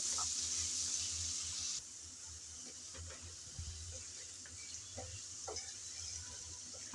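Potato pieces frying in a pan with salt and turmeric, a faint steady sizzle with occasional soft scrapes of stirring, quiet and close.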